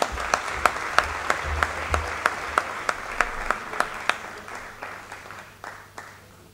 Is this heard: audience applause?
yes